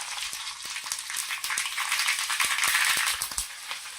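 Mustard seeds, cumin, sesame, curry leaves and green chillies sizzle and crackle steadily in hot oil, with sharp popping ticks scattered over a continuous close hiss.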